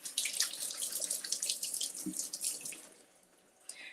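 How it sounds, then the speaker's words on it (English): Tap water runs steadily onto blueberries being rinsed in a sink, a close, continuous splashing hiss that thins out toward the end. "we're gonna rinse off our blueberries"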